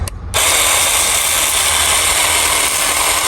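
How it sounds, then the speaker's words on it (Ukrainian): A cordless battery pressure washer pump kicks on after a short click and runs with a loud, steady whirring drone as it begins drawing water from a bucket, close by and unbroken. "Тепер пробуємо закачувати."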